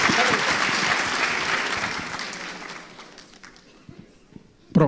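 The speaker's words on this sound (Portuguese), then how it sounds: "Uma salva de palmas para uma pergunta aí." A conference audience breaks into brief, loud applause that thins out over a few seconds, followed by a few scattered claps and faint voices.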